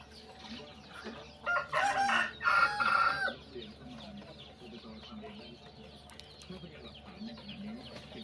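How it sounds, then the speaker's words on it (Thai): Chickens cluck and squawk loudly in a few bursts nearby during feeding, then softer clucking continues in the background of a farmyard. "ไก่อารมณ์ดีค่ะที่นี่ไก่แฮปปี้"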